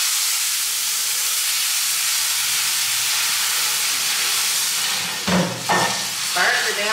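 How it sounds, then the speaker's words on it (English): Butter burning and sizzling in a hot pan while making Alfredo, a loud continuous hiss with a few brief scraping or stirring noises near the end. "Burn the damn butter. Because I forgot this is on."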